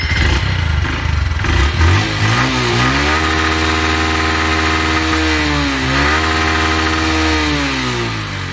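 Carbureted motorcycle engine running loudly and close, revving up and down several times with rising and falling pitch and no stalling, alone without talk.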